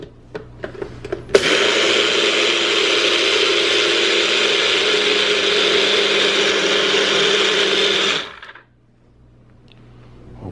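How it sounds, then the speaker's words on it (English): A NutriBullet blender mincing eggs for dehydrating whirs loudly and steadily for about seven seconds, then cuts off. A few light rattles and taps come just before it starts. "let me get the NutriBullet"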